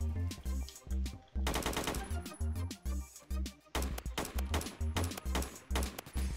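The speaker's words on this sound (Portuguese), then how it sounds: "De longe, assim, tem que ser só uns tirinhos espaçados." Rapid automatic gunfire from an AK47 or G18 in a Roblox shooter rings out in repeated sharp bursts with brief gaps between them, loud and close throughout.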